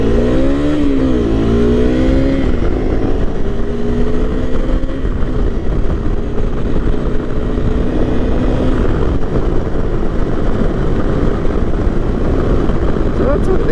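A Honda CRF 250 Rally motorcycle rides at around 55 mph, its engine droning loud and close with wind rush, the pitch rising through a couple of gear changes then holding steady.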